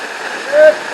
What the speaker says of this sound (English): The falls coming down, eh?